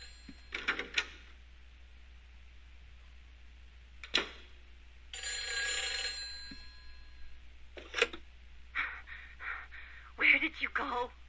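Telephone ringing inside the video game Silent Hill 4: several separate bursts of a ringing tone spread across the stretch, with a longer buzzing ring in the middle over a low steady hum.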